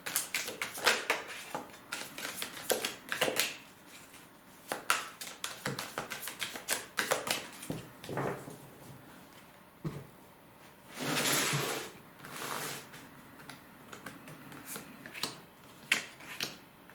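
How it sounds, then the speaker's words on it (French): Tarot cards are shuffled and drawn on a table: quiet, irregular taps, flicks and short riffling bursts, close and soft, with brief pauses between. "Allez, on va tirer 9 cartes."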